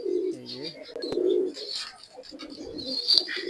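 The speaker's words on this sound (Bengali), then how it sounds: "এই যে আমার বাসায় কিছু কবুতর আছে বিক্রি হবে" Teddy pigeons kept for sale cooing at close range, soft repeated low coos with a few chirps and light background noise, no talk.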